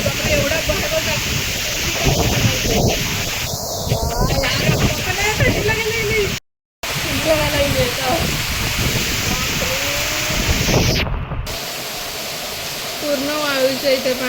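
Heavy rain driven by wind during the first monsoon downpour in Konkan makes a loud, continuous wash of noise close by. Gusts and splashing swell and fade through it, with a couple of brief dropouts and occasional voices mixed in.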